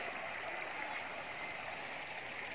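A small stream flows steadily nearby with a continuous, even rush of water. It is moderately faint and carries on without a break, with no voices over it.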